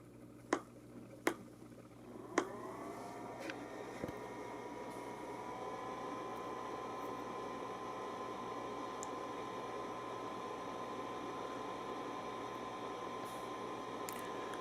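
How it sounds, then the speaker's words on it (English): Steady, soft whirring hum of a DBPOWER L21 LCD video projector's cooling fan, heard up close in a quiet room after a few faint clicks at the start. "projector in this class is going to have fan noise, so I'm just letting you see how it is."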